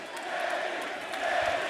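A packed wrestling arena crowd in Indianapolis, Indiana roars for Kenny Omega's entrance at an AEW event: a dense, sustained wash of distant cheering and yelling with no single voice standing out.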